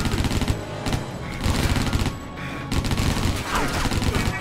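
Rapid bursts of automatic gunfire in the video game Stranglehold rattle loudly and almost continuously, with a couple of brief pauses between volleys.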